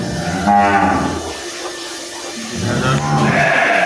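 Dairy cows low on a farm, two long deep moos a couple of seconds apart, loud and close with barn noise between them.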